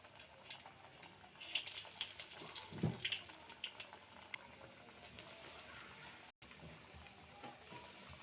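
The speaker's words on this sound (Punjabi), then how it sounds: "ਹੁਣ ਆਪਾਂ ਨੂੰ ਤੇਲ ਚ ਪਾ ਦਾਂਗੇ" Maggi bread rolls drop into hot oil in a kadai, and a soft, steady frying sizzle follows, faint and close, with a few small clinks and splashes near the start and no one speaking.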